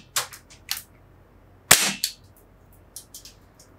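A CO2 Desert Eagle airsoft pistol fires in burst mode, giving a string of sharp, loud pops with small gaps between them and faint mechanical clicks, held one-handed at close range.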